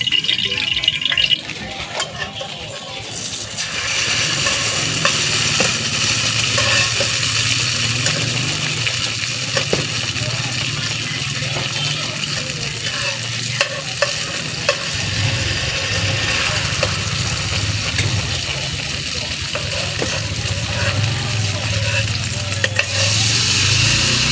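Steady, dense sizzling of homemade food frying in hot cooking oil, loud and close, continuing without pause with occasional crackles and pops.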